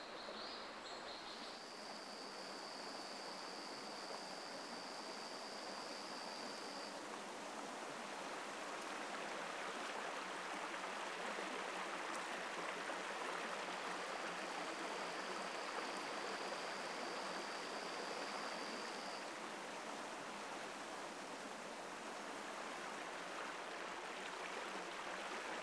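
A forest stream flows in a steady, even rush of water, close and continuous, with a faint high insect or bird tone drifting in twice.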